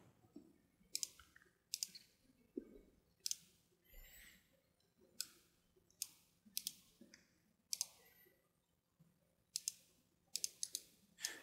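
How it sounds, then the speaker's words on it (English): Computer mouse clicks while erasing in an image editor: sharp, quiet clicks come singly and in quick pairs at an irregular pace, close by against a near-silent background. "you can click and erase away, bringing back some of that original detail"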